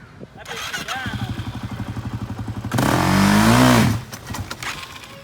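A new ATV chugs at a low idle, then its engine revs loud and strained for about a second as the clutch is released, before dropping back to a rough, pulsing idle.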